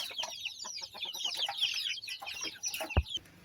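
Backyard pet chickens clucking busily during feeding, a dense overlapping chatter of clucks from several birds close by, with one brief thump near the end.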